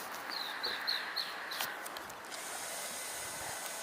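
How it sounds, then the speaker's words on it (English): American coots, an adult with young, give a few short, high squeaky calls in quick succession, faint and somewhat distant over a soft outdoor hiss. "But these are American coots."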